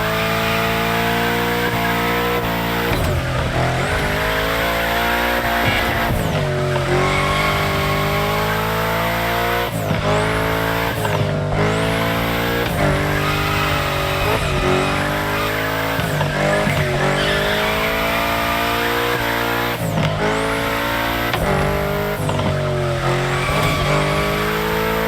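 Sustained tire squeal from a car drifting through bends in The Crew Motorfest, loud and continuous with engine revving, repeated swooping squeals rising and falling across the whole stretch, no talking.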